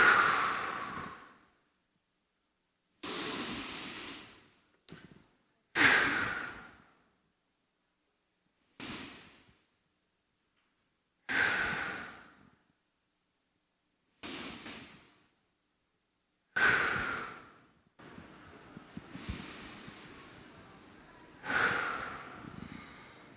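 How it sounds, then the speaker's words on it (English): A conference audience inhales and exhales deeply in unison, six broad rushing breaths separated by brief silences, with faint murmuring in the room between the last few. "6 deep breaths"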